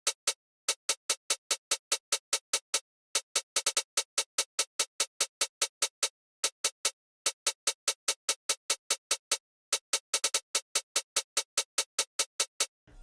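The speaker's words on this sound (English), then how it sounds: "And that hi-hat is from the 3K kit again. It's called the Bless You hi-hat." Bright, crisp Bless You hi-hat from the 3K kit in a two-step pattern with short quick rolls and a few pauses, steady clicking ticks, close and alone.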